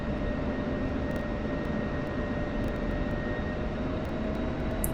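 Steady roar of an F-16 Viper jet engine in the DCS flight simulator, a constant loud broadband rush with faint tonal whine and no voices.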